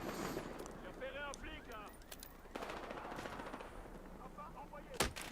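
Gunfire in the Battlefield Hardline multiplayer shooter on PS4, a bolt-action sniper rifle among scattered shots, with overlapping game noise, a loud sharp report near the end and someone talking throughout.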